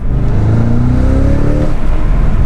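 A 2022 Cadillac CT5-V Blackwing with a manual gearbox revs hard in second gear, its engine note climbing steadily and loudly in rising harmonic sweeps, with no talking over it.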